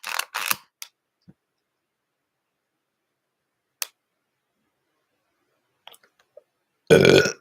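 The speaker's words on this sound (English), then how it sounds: "Sorry, that was a spiritual burp." After a few faint clicks and taps in near silence, a single loud, close burp erupts at the end.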